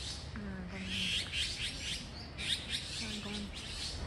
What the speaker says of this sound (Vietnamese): Còn con này con tu hú